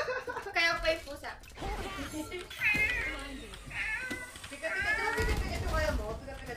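A cat meows repeatedly in short, whiny calls, mixed with overlapping speech and background game sounds.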